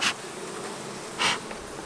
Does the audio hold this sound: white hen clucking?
no